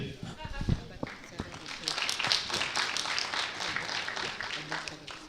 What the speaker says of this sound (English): The last round of applause for this round.